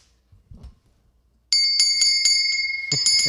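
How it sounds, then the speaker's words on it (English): A bright metallic bell, like a small desk or bicycle bell, is rung repeatedly in a quick series of clear, ringing strikes that sustain close by after a few soft thumps. "Ring that bell."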